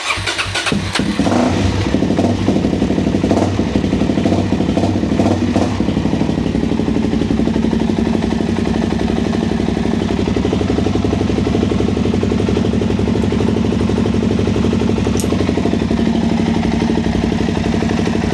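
A Suzuki DRZ400E motorcycle engine cranks and catches after a few rough bursts, then settles into a loud, steady, close idle that runs on without pause, with no voices.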